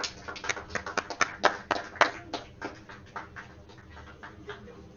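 Applause at a curling event, a burst of claps and taps that starts moderately loud and steady, then thins out and fades over a few seconds with no talk.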